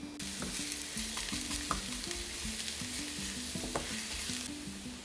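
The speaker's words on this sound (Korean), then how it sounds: "우선은 마늘을 다져준 다음 팬에 올리브유 두르고 마늘을 구워서 마늘 기름을 내준다." Minced garlic fries in olive oil in a pan, giving a steady, close sizzle with the repeated scrape and clatter of stirring throughout, no voices.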